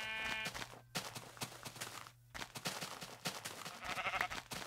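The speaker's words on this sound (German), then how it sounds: "Was zum Teufel ist los mit den Schafen hier?" Sheep bleating in Minecraft, several wavering bleats rising over a busy game soundscape with steady background tones, moderately loud and close, with no talking.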